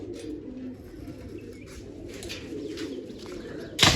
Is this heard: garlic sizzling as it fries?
no